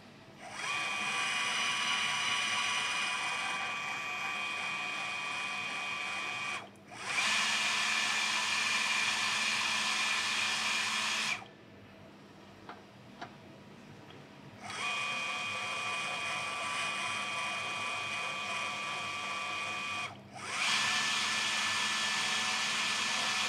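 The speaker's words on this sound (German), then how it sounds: "Also ich habe jetzt da Gewindeschneider M6." ProHand thread tapping machine cutting M6 internal threads: a loud, steady high-pitched motor whine in several long runs, each stopping abruptly, with a short quiet gap and faint clicks between them.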